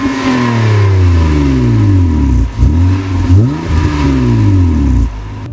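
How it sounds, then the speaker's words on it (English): A 2014 Honda Accord V6 Coupe engine fires up close by and revs loudly, its pitch rising and falling through several throttle blips before settling. "hit the engine start button"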